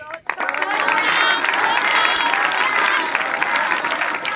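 Congregation at a Christian gospel meeting clapping together, a loud, sustained burst of dense applause from a large crowd, beginning abruptly and continuing evenly throughout.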